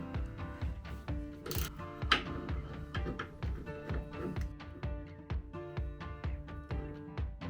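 Bolt being removed from a crated ShopSabre 23 CNC machine in a shop: a steady run of close, rapid metallic ratcheting clicks with tool taps, loud and continuous, with no talking.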